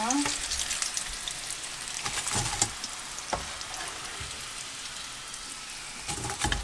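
Potato croquettes with corn sizzle steadily in hot oil, a dense crackling hiss with occasional louder pops and soft utensil clicks, close up and without talk.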